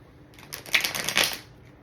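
A deck of tarot or oracle cards is shuffled for an angel-number reading, a brisk riffling flutter in two quick bursts, close and crisp, with no talk.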